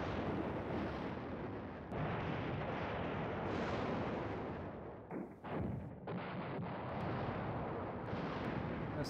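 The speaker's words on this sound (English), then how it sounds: "Most of these battalions are just about empty, should be empty after this bombardment." Artillery bombardment in the war game Command Ops 2, a dense, continuous barrage of booming blasts that rolls on for seconds with a few short lulls, loud and sustained with no voices.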